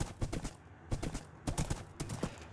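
Hooves clip-clop quietly in Minecraft as a ridden horse moves, an irregular run of soft thuds throughout with no talk.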